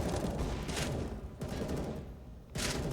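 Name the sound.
gunfire in the video game CS:GO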